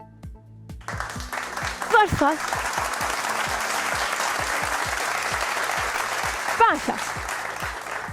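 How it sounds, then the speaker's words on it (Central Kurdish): A studio audience on a quiz show claps in a loud, sustained burst that swells after a brief quiet start, while a host speaks a few words over it. "یەک چەپڵەی بەهێز بۆ من"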